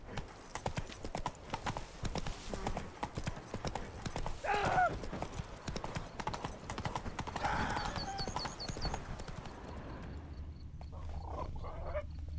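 Roach the horse galloping in The Witcher 3, with steady rapid hoofbeats pounding close throughout, a snort or whinny midway and game ambience under them, easing off near the end.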